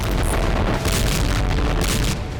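A grenade blast with a loud, sustained, rumbling boom that fills the whole stretch without letting up. No voices are heard over it.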